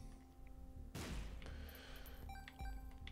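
A bomb goes off in The Binding of Isaac: Repentance, one sudden loud blast with a rumbling tail, then a second thump a moment later over quiet game music.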